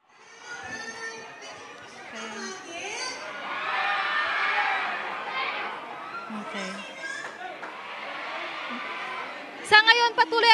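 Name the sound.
fans cheering and screaming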